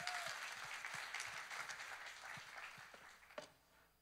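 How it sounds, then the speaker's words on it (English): A church congregation claps during a sermon, quiet and somewhat distant, a soft steady patter that fades toward the end. "can we give Taylor a round of applause?"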